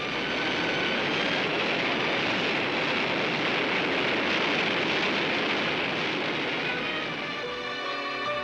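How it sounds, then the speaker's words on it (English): A hypersonic aircraft roars in flight, a loud, sustained, dense engine rumble that holds steady throughout in a restored 1968 space-program film soundtrack. "sleek new hypersonic aircraft that today fly to the dark edges of space"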